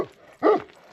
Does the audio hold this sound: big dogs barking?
yes